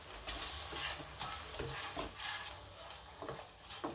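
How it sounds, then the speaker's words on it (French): A spoon stirs pasta shells with curried chicken breast in a hot pan, giving soft scraping strokes over a faint sizzle, close and quiet with no talking. "Et vous mélangez."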